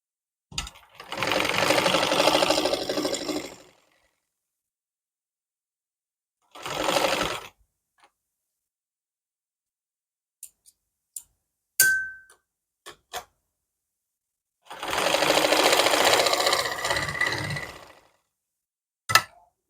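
An electric sewing machine stitches a pocket onto palazzo trousers in three separate bursts of rapid, even whirring, with quiet gaps between them and a few small clicks and clinks.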